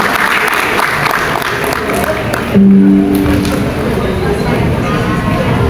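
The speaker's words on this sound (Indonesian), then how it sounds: "Beri tepuk tangan yang meriah untuk Bunda Betty Prastiani." An audience at an indoor parenting seminar applauds to welcome the speaker, giving loud sustained clapping from a crowd throughout, with a voice over a microphone partway through.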